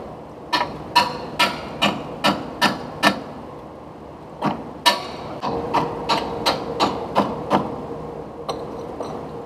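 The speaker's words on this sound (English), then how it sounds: "we punched a bunch of holes in it with a screwdriver and spun it around" Sharp, evenly spaced metallic strikes of a screwdriver being hammered through an oil filter, two rhythmic runs of about eight and eleven hits separated by a short pause, close and clear with faint background noise.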